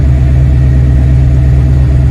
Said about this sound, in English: the car will not turn off when the key is disengaged